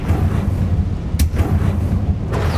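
A loud, dense burst of explosive rumbling from the Confringo fire spell in the Hogwarts Legacy video game, with repeated booming blasts and sharp cracks running continuously, close and powerful.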